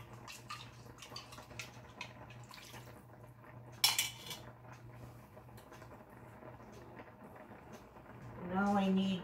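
Chicken bouillon dissolved in a quarter cup of warm water poured into a kitchen dish, with light clinks of cutlery and dishes and a brief splashy pour, close by, followed by a voice starting to talk.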